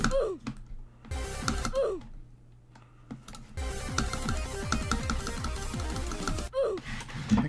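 Computer keyboard shifting and clattering on a desk, with scattered taps and thunks in bursts separated by short pauses, close and moderately loud.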